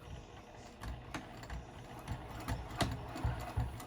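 Sewing machine back-stitching a seam on the vinyl side of a flat-bottomed zipper pouch at stitch length 3, a quiet, steady mechanical whir with soft rhythmic clicks that grow a little stronger toward the end, no talking.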